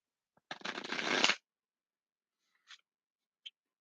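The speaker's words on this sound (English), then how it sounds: "So I'm going to shuffle these cards 3 times" A deck of tarot cards gets one quick, close riffle shuffle, a crisp papery burst under a second long, then two faint taps as the cards are squared, with silence around them.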